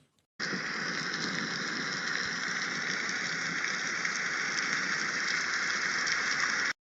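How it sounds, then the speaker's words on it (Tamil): Steady, even rain hiss from a cartoon sound effect, a dense wash of falling drops that starts abruptly and holds at a constant level throughout, with no voices. "மழை வேற இப்படி வந்துருச்சு"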